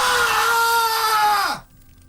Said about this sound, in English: That was as loud as I could scream.